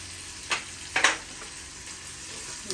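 Curry leaves and green chillies frying in oil for upma make a quiet, even sizzle, with two brief stirring clicks near the start.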